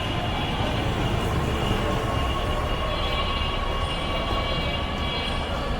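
A metro train at Pallabi metro station rumbles steadily nearby, a constant mechanical drone with faint high squeals from the wheels and no voices.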